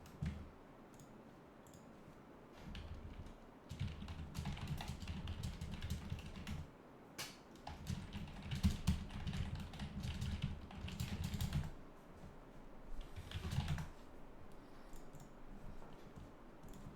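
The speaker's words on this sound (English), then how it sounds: "so I'm just typing" Typing on a computer keyboard during a Battletech game session, with bursts of close, quiet clicking keystrokes and short pauses, plus a low hum in the background and no talk.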